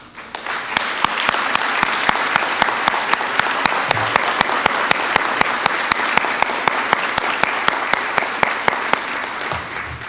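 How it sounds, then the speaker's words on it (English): Graduation ceremony audience applauds clinical preceptors standing in the crowd, a loud, sustained wave of clapping with one nearby clapper's sharp, regular claps standing out above the rest. "can I have you stand so that we can applaud your presence here?"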